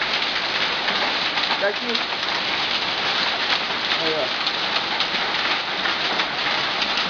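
Hail falls outside a house in São José dos Pinhais, a dense, steady patter of stones rattling on surfaces like popping corn, close and continuous, with a few brief spoken words from someone indoors.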